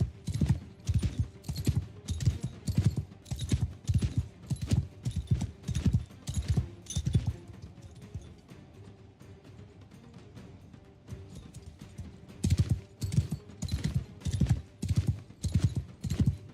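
Horse hooves clip-clop steadily in a video game as a horse is ridden slowly away, with rhythmic bursts of hoofbeats that fade briefly mid-clip before picking up again.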